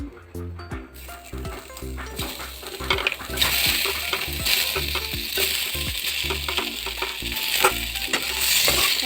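Pork is fried and stirred in a wok with no added oil, its fat rendering out. Metal spatula scrapes and clanks repeat over a rising sizzle that grows louder and denser after the first few seconds.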